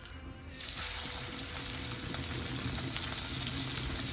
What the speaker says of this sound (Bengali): প্যানে তেল দিয়ে এবার মাছগুলো ভেজে নেব।